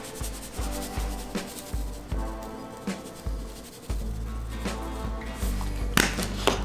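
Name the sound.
rubbing pork rib rub into pork shoulder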